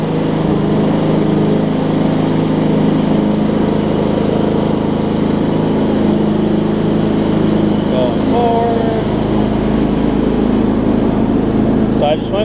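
John Deere 125 riding mower engine running steadily and loudly close by throughout, a constant drone with brief speech-like tones partway through.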